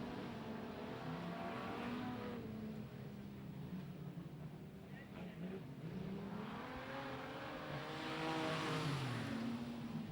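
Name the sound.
Super Street race cars on speedway main straight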